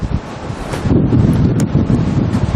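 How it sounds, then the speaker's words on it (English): Steady wind roaring against the microphone, a low buffeting rumble that grows stronger after the first second and stays loud throughout. "Hit that windy area."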